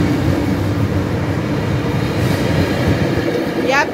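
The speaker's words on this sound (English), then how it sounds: "Bye-bye, train." A train rumbles steadily past at close range with a dense rolling clatter of wheels on rails, loud throughout, and a brief squeal sounds near the end.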